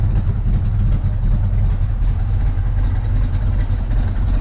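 Steady, close idle from the exhaust of a 1965 Pontiac GTO convertible with a 389 Tri-Power V8, a thick low burble holding even and loud throughout with no voices.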